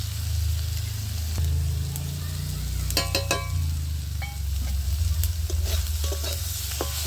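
Flat beans with white sesame seeds sizzle steadily in a frying pan, with scraping and clicking from stirring over a continuous low fry hiss.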